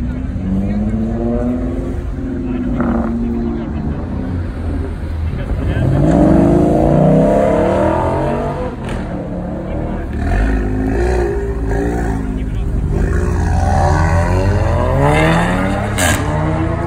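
A McLaren sports car engine revs and roars nearby, rising and falling in pitch with throaty bursts, with voices talking over it.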